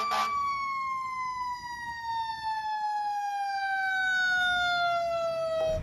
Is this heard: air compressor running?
no